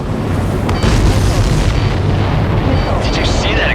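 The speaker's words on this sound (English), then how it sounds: "Did you see that explosion?" Missile explosion in the combat flight game Ace Combat 7, during a chase of enemy supply ships at sea: a loud, sustained booming roar that fills the whole stretch, with faint game radio chatter beneath it.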